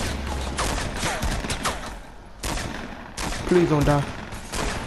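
Bursts of rapid gunfire in the video game Fortnite crackle in several volleys, loud and close, while players talk over them.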